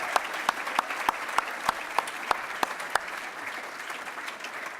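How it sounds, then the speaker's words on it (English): Audience applause fills a hall at an awards dinner, a steady wash of clapping with sharper individual claps punctuating it at a brisk, even pace, sustained throughout without talk. "Please stand up for a round of applause."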